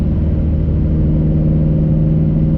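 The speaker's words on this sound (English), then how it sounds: "You can hear just that hint of the Procharger from the inside, and from the outside, the thing just sounds like a jet engine" A Procharger-supercharged Ford Mustang GT350 engine heard from inside the car, a steady loud low drone with a constant hum and no talk.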